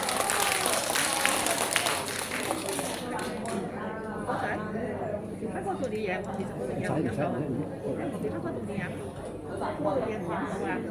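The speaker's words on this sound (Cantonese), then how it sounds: "大家俾啲掌聲去鼓勵下佢啊" Audience applause at a Cantonese opera performance, a dense steady patter of clapping with crowd murmur and voices mixed in, loud and continuous throughout.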